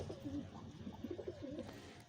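Pigeons coo softly and close by in a short run of low, rounded, repeated calls over faint background noise.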